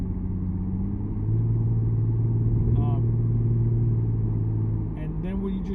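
A Lexus IS engine with an aftermarket axle-back exhaust rumbles steadily and then swells slightly as the revs climb, with a low, throaty exhaust drone throughout.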